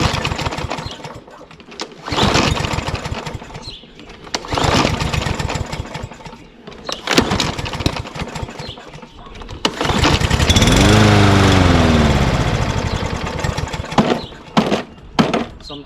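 A small engine on a lawn mower is pull-started repeatedly, with several rough cranking bursts and sputters, then briefly catches and roars near and loud before cutting out again.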